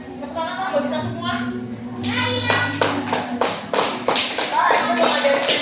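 A group of children clapping their hands together in a classroom, a burst of overlapping claps that starts about two seconds in and continues steadily over talking voices.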